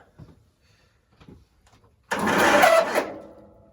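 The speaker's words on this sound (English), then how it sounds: "Sounds like an old Tecumseh starter." An old Tecumseh engine starter on a Sears Custom 10XL cranks loudly for about a second after some quiet, faint knocks, then cuts off.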